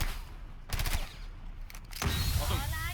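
Gunfire from the PC game Rainbow Six Siege comes in two short, rapid bursts of automatic fire about a second apart, with a faint voice after them.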